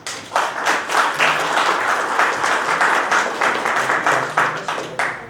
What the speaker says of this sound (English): A round of applause for HitchLine, please.